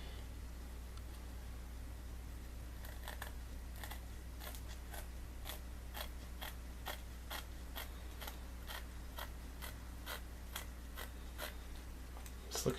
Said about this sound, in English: You can kind of feel the blade, the wood of the blade as a guide as you cut.